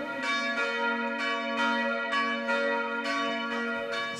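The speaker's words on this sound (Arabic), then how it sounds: "صوت أجراس الكنائس معهم يسيرون ويحتفلون" Church bells peal in repeated, evenly spaced strikes with ringing overtones during a Corpus Christi procession in Bethlehem, loud and steady with no talk over them.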